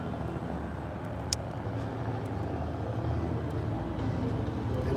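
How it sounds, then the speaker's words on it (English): A loud motorcycle approaches along a road through steady traffic noise, its engine drone building slightly toward the end. "And this loud motorcycle coming up."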